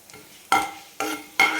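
A spatula stirs and scrapes dry grated coconut as it roasts in a pan for fried modak. Three loud, close scraping strokes sound after a quiet start, each one a sharp rasp that trails off.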